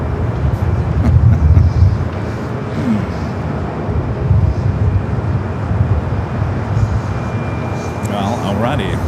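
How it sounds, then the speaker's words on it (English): A Lufthansa Boeing 747 arriving at LAX from the east gives a low, steady engine roar that swells and fades, heard from a distance under wind and ambient noise while people talk nearby. "Lufthansa Queen is coming in from the east."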